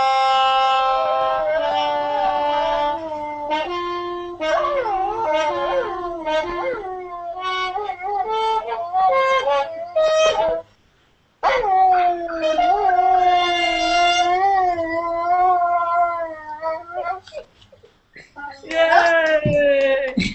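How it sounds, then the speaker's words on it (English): A dog sings along in long, drawn-out howls with wavering pitch, one sustained wail after another, loud and close, broken by a brief silent gap before the howling resumes. "you're going to hear Gail's dog singing"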